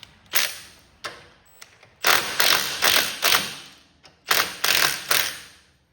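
Bolts being loosened during a hydro and drive shaft install on a Cub Cadet 1282 garden tractor, a series of sharp close ratchet or impact bursts, some single and some in quick clusters, loud against quiet gaps, no talk.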